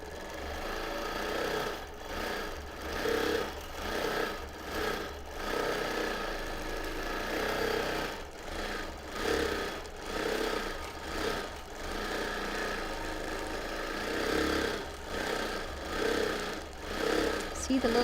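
A longarm quilting machine stitching free-motion edge-to-edge patterns runs in a steady whirring hum that swells and eases as it moves back and forth, with a voice talking over it.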